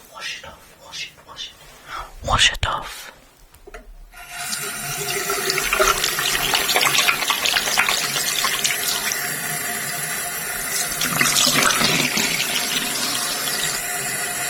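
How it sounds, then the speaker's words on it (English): A tap runs steadily into a sink while skincare is washed off the face, with splashing near and loud after a few seconds of quiet handling, and soft speech over the start. "Just carefully washing it off."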